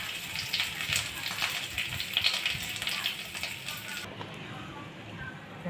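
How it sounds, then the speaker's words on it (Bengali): Curry with eggs and pointed gourd sizzles in hot oil in a pan, giving a close, steady crackling hiss that eases near the end. "তরকারিটা তেলের উপরে দিয়ে দিব।"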